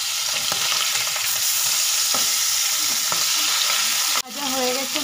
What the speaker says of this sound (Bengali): এটাও লাল লাল করে ভেজে নেব।